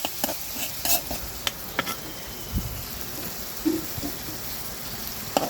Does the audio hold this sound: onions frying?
yes